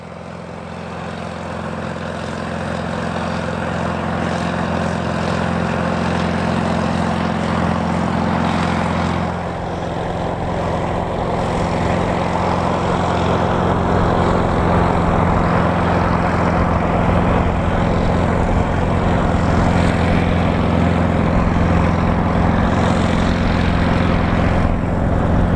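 An International 4586 articulated tractor tilling a field of corn stalks drones steadily for a long stretch, a deep continuous rumble with a broad hiss of machinery over it, fairly loud and close.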